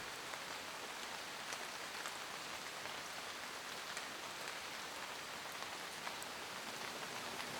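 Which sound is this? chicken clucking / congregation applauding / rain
rain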